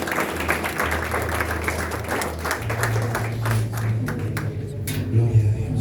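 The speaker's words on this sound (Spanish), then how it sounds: "Le damos un aplauso fuerte al Señor." A congregation at a Spanish-language church service applauds, with sustained, dense clapping from many hands over a low, steady hum that continues throughout.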